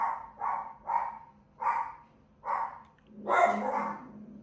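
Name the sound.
dogs barking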